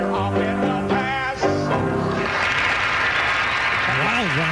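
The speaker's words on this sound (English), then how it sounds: "Round of applause." A live audience bursts into applause after a voice or song ends, a broad, sustained roar of clapping that sits loud and close, with a person speaking again near the end.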